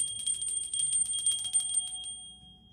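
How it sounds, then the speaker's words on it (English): A small bell rung repeatedly in a quick bright shimmer of tones for about two seconds, close and clear, then a ringing decay in a quiet room. "I will ring my bell for you."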